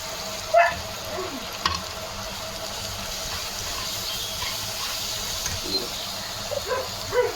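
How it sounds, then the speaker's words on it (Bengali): Chopped onion, garlic and spices fry in a pan with a steady close sizzle and hiss, broken by a few soft stirring scrapes and clinks. "পেঁয়াজ যেটা চপ করে রেখেছি, একটু রসুন, ওগুলো সব আমি দিয়ে দেবো এর মধ্যে আর দিয়ে ভাজতে থাকবো"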